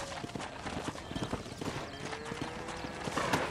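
Horse hooves clip-clopping in the video game Red Dead Redemption, a steady rhythmic series of hoof strikes at moderate distance over faint background ambience, growing slightly louder toward the end.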